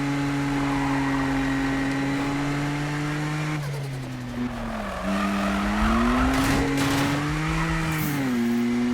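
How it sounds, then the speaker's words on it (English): A 2016 BMW M2 in Need for Speed 2015 drives with a steady, loud engine drone that dips and rises as it slides, with faint tire noise through the corners and no talking. "You can get this thing to slide a little bit."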